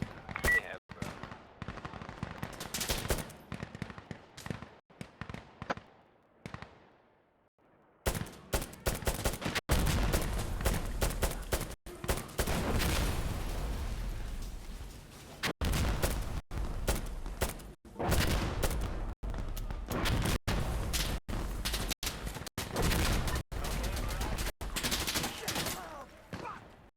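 Gunfire in the video game Insurgency Sandstorm: dense rapid automatic bursts and loud single shots fill most of the stretch after a quieter opening, with brief gaps between volleys.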